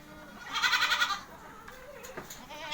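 Goats on a farm in a Konkan village bleat in a short, wavering burst at moderate distance, followed by fainter rustling and a second brief bleat.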